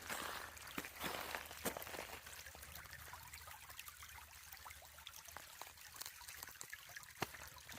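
A small stream trickles and dribbles along a wooded greenway trail near the Broad River, a steady soft wash of running water with occasional faint crunching footsteps nearby and no talk.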